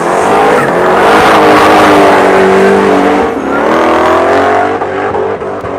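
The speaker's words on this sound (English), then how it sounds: "Full throttle from Peter" Drift car at full throttle on Achna Speedway in Cyprus, built for serious drifting after an E30, roars loudly and continuously with revving engine harmonics and hints of tire squeal, close and sustained with no talking.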